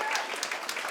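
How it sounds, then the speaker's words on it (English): A theatre audience at a new musical theatre showcase claps in a dense, continuous round of applause, close and steady for a brief moment. "Can we have a massive round of applause, please"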